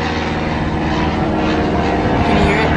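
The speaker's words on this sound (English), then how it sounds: "that plane is annoying" A propeller airplane drones loudly overhead in a continuous, rumbling wash of engine noise that swells slightly toward the end.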